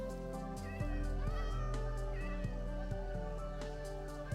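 A cat in Minecraft gives a short meow over a loud steady background music track, faint and brief, with someone chatting nearby.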